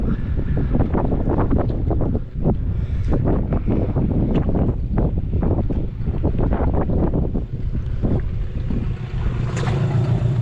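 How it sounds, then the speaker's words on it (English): Strong wind buffets a sailboat at sea, roaring steadily at close range with gusty surges and wave wash throughout, no voices present. "Still getting smacked by that wind."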